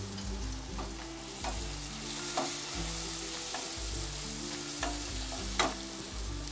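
Spices and tomato for egg pulao fry in a pan with a continuous close sizzle. Several distinct spoon scrapes and taps mark the stirring at irregular intervals.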